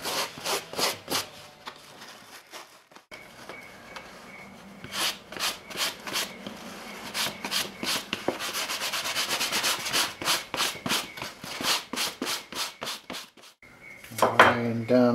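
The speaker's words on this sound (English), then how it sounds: "So we just keep using the coarse brush on it." A coarse brush scrubs the dry, stiff leather of an old slouch hat in quick, rasping back-and-forth strokes. The strokes come in rhythmic bursts with short pauses, and a brief clatter follows at the end.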